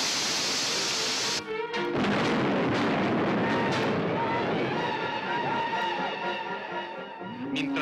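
A dynamite explosion in the original trailer for a Western film, setting off a cattle stampede: a sudden heavy blast that swells into a long, loud, rumbling roar.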